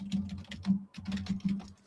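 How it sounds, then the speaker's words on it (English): Rapid typing on a computer keyboard, close and clear, with irregular bursts of key clicks and brief pauses between them. "And he's typing."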